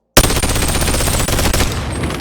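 A modded rifle in the Boneworks VR game fires a rapid, continuous burst of automatic shots, loud and close, beginning abruptly and running for about two seconds.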